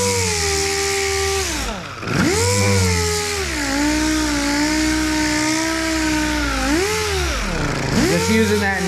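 A dual action sander works a plastic repair, giving a loud, steady motor whine for the whole stretch, its pitch sagging twice as the pad presses into the surface, then climbing back up.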